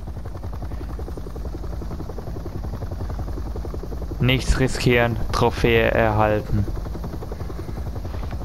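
A helicopter in the video game Resident Evil 7 drones steadily throughout, a constant rotor hum under a burst of German speech in the middle.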